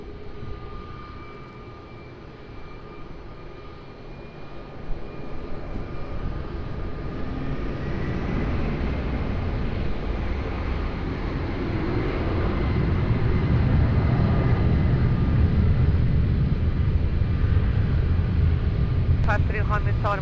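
An airliner rolls for takeoff on runway 20 at Lisbon Airport, its engine roar building steadily from a distant hum to a loud, broad rumble, with a faint radio-style voice in the background.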